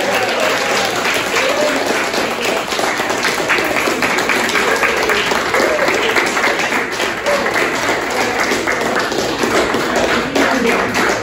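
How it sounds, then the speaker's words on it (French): A school gala audience applauds an award recipient, loud continuous crowd clapping with sharp individual claps standing out, sustained steadily throughout. "On va l'applaudir à Philippe Thomas."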